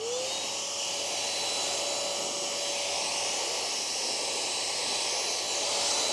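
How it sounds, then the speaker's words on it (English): A steady, loud high-pitched blowing whoosh from a handheld car-detailing air dryer used on a Mazda MX-5 ND, with a rising whine at the start, running continuously throughout. "This little guy is a air dryer."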